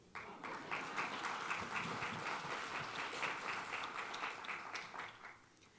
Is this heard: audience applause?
yes